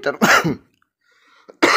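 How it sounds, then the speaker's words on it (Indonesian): A single person's cough, two close harsh bursts followed by silence, then another short burst at the end. "maaf saya batuk"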